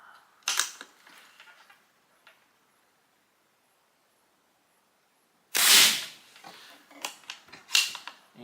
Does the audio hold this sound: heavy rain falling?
no